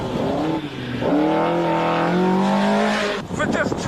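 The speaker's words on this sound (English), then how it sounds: "for the amateur driver, there is probably no better value for money racing than these TVR Tuscans" A TVR Tuscan race car, a 450-horsepower rear-wheel-drive racer, howls loudly on track with a rising, revving engine note and a brief tire squeal. Someone talks over the engine.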